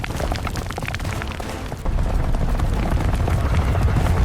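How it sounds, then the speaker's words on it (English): A large herd of African buffalo tramples the ground around a lion pride's hiding cubs, giving a dense, continuous low rumble of hooves that grows louder and steadier partway through, with no voices. "The herd systematically tramples the ground where cubs hide"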